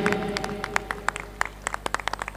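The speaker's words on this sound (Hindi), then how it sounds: "जोरदार तालियां, तालियों में कंजूसी ना करें" Scattered audience clapping at an outdoor Ramlila stage event, a thin spread of separate claps over a steady hum, fairly faint and distant, with no talk.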